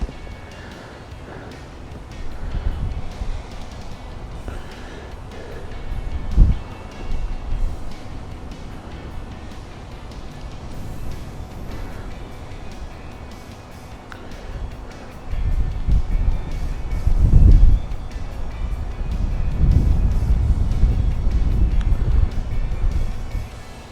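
Strong gusty wind buffets the microphone out on the ice during ice fishing, rising and falling in heavy low rumbling surges that grow stronger toward the end.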